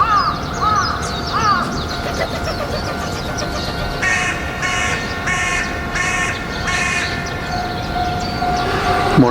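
Morning in a Japanese neighborhood: crows caw loudly and repeatedly while a train rumbles past, and a level-crossing bell rings in a steady pulsing pattern through the middle, all loud and close with no talking.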